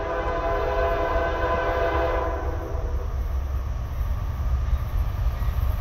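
A Norfolk Southern 29G westbound freight train passes on track 2 with an ES44C4-type lead locomotive, its horn blaring loudly for about two seconds before fading into the continuous heavy rumble and roar of the passing train.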